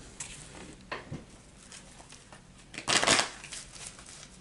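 Tarot cards being shuffled by hand: a few soft riffling bursts, with a louder, denser shuffle near the end, close and quiet with no talking.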